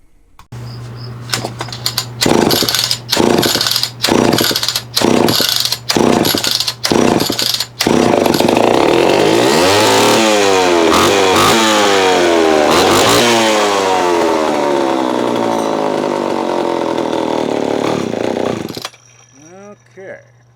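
A Homelite XL-12 chainsaw runs during carburetor tuning by ear, loud and close, first chopping in quick blips of throttle, then holding a long sustained high-rev scream that wavers before cutting off abruptly.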